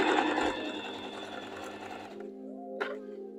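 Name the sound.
sewing machine sewing straight stitch on cushion fabric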